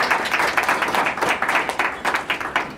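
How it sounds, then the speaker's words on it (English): Audience applause at a panel discussion on sustainable jobs, a steady patter of many hands clapping at moderate loudness for about three seconds, with no voices over it. "Round of applause, please."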